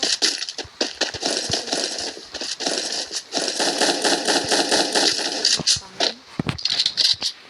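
Rapid bursts of gunfire from the mobile battle game Free Fire, loud crackling volleys firing in quick repeated strings with brief gaps between them.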